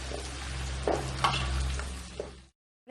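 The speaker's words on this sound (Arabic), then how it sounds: "وهسه راح اضيفه للشجر واحمسه كل زين ويا البصل واللحم." Zucchini is sautéed in a pan with onion and meat, giving a close, continuous sizzle with a few stirring scrapes before it cuts to silence.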